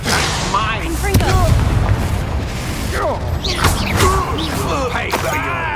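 A Confringo blasting spell bursts in the Hogwarts Legacy video game, with sharp crackling impacts and booming blasts repeating through a chaotic fight amid shouted voices.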